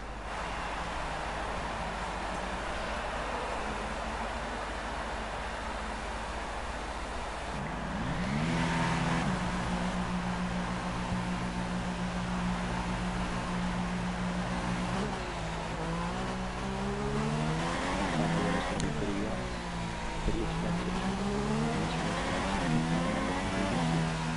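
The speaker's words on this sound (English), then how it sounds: "So take a few laps to get the tyres up to temperature." A race car does slow warm-up laps to bring its tyres up to temperature, the engine droning steadily and then rising in pitch as it accelerates, with a few gear changes.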